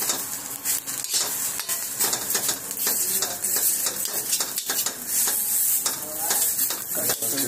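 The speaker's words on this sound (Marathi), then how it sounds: "हे ओलं खोबरं आणि सुकं खोबरं टाकलेलं आहे. ते पण थोडं फ्राय करून घ्यायचं आहे." Fresh and dried coconut fry with whole spices in a pan, giving a close, steady sizzle broken by frequent scraping stirs and light clinks of a utensil against the pan.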